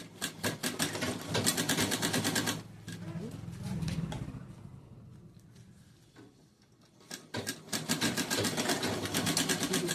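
A sewing machine stitches fabric for a bag in a run of rapid, steady mechanical chatter, stopping briefly mid-clip for quieter handling before resuming at full speed.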